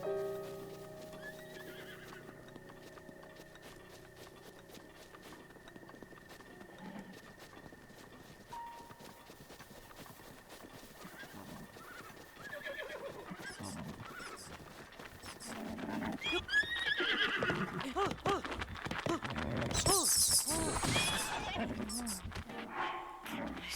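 A horse neighs and whinnies with clip-clopping hooves in the game Zelda Breath of the Wild, building from sparse calls into a louder, busier stretch of neighs and hoofbeats near the end, with ambient game music early on.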